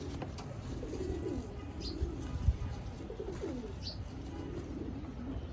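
Brown-necked domestic pigeons on a rooftop coo in repeated low rolling phrases, moderately near, with a few faint higher chirps and a soft thump midway; no one speaks.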